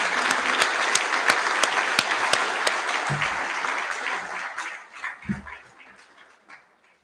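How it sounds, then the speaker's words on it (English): A school prize-giving assembly audience applauds steadily, many hands clapping with a few sharp standout claps, then the applause thins and fades away over the final seconds. "Please give a round of applause for Bella Marie."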